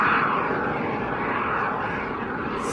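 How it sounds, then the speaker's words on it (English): A turbine-powered display aircraft at an evening air show in Ayr gives off a steady, loud jet roar and whine that holds evenly throughout, with no voices. "700 pounds of thrust coming from those turbines."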